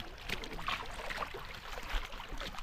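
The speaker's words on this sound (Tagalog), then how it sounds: "Kakalado ng motor boat." Boat on open water during a fishermen's rescue, with a steady broadband wash of water and engine noise and occasional splashes and louder surges, no talk.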